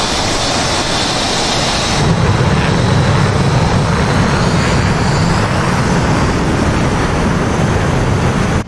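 Loud, steady roar of 1970s fighter jet engines in a video game, with the engines spooling up for takeoff, building slightly in intensity and holding a dense, continuous rumble with no talk.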